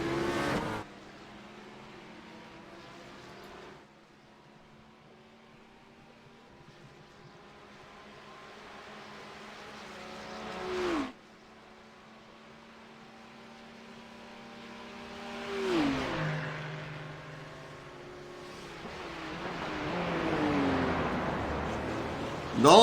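BMW GT3 race car and rivals racing at Bathurst, engines droning steadily with harmonic whine, rising and falling through gear changes and passes, loud and close, with a few louder surges near the end.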